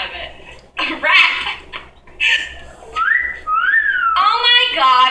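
A person whistles in short rising and falling notes, close and clear, between bursts of nearby talk and light laughter.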